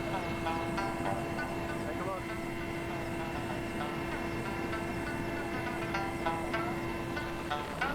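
Steady droning helicopter engine hum with a strong sustained tone and constant rotor-like rumble, heard from inside the helicopter in flight over Mongolia; faint voices murmur underneath.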